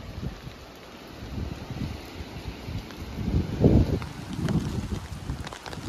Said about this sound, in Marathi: तर आता पाऊस आणि वारा जोराचा आहे खूप, म्हणजे खूपच.